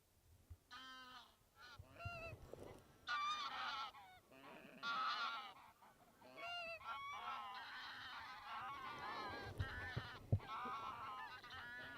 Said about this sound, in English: we can already hear the geese off in the distance